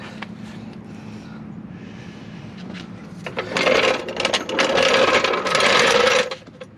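Ratchet clicking out bolts from a Chevrolet Silverado strut, quiet handling at first, then two louder sustained stretches of rapid mechanical ratcheting close by.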